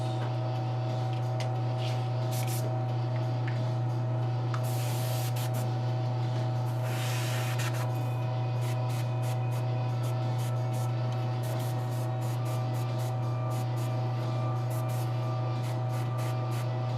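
Varnish sprays onto a painted figure in two short hissing bursts over a constant electrical hum.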